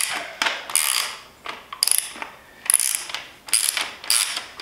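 A 5mm Allen key works thread-locked bolts loose from a plastic front turn signal mounting plate on a Yamaha MT-07 motorcycle, giving close, repeated ratcheting clicks in bursts with short pauses between turns.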